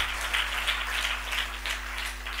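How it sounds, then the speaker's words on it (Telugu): A congregation claps during a fasting prayer service, a continuous muffled patter of many hands heard at a distance, even and unbroken over a steady low hum. "చప్పట్లు కొట్టి దేవుని స్తుతిద్దాం"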